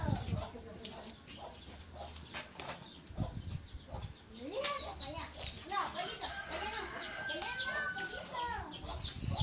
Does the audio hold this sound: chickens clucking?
yes